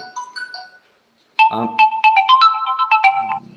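A phone ringtone plays a bright, repeating electronic melody for about two seconds, loud and close, following a short faint chime.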